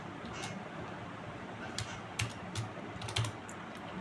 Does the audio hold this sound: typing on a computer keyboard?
yes